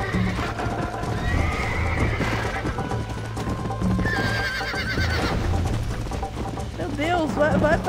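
A horse in Red Dead Redemption whinnies and snorts over a rhythmic clip-clop of hooves, with background game music and someone talking over the action.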